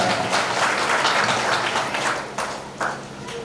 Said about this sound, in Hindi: और यमराज के कुर्सी पर जाकर के धरते वासी जोरदार तालियां तो बजा दो एक बार